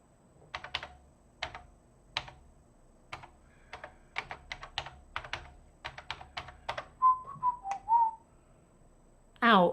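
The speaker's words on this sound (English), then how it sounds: "can you seriously not whistle into your microphone? Because that's really painful." Someone whistles straight into a microphone after a run of sharp computer keyboard clicks, giving a few short, piercing tones and then a final loud, harsh burst close to the mic.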